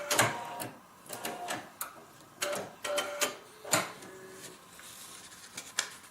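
A sewing machine stitches a paper-pieced log cabin heart quilt block in short bursts of rapid ticking. The stitches run in several separate close runs with brief pauses between them.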